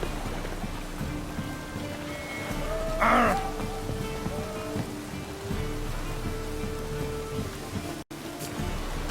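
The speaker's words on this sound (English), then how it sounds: "And it's raining again." Rain in the video game The Witcher 3: Wild Hunt, a soft, steady hiss of rainfall under a low ambient game drone, with a brief splash-like burst partway through and a sudden cut near the end.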